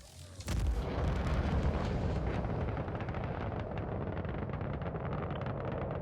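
An S9 torpedo launches at a Typhoon in a video game: a sudden heavy blast followed by a loud, sustained roaring rumble that holds steady for several seconds.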